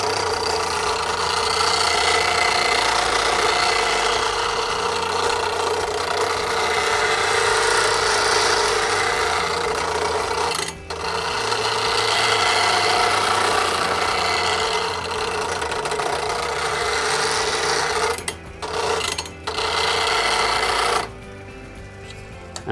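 A bench grinder sharpening a lathe bowl gouge held in a Wolverine jig, producing a continuous loud, harsh grinding hiss with brief breaks as the tool lifts off the wheel, then stopping near the end.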